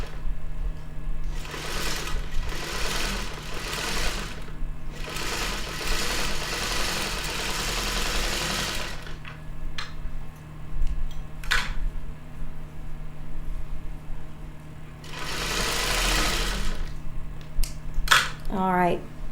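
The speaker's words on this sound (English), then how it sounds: "Sewn both sides. Now I'm ready for the next step." A sewing machine stitches both sides of a quilt seam in several whirring bursts separated by pauses, with a person talking in between.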